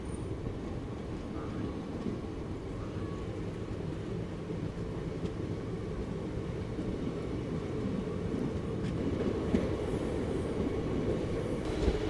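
The Visakhapatnam intercity express pulls out of Niranjanpur station running late, giving a steady, fairly quiet rumble of wheels and carriages that grows slightly louder toward the end.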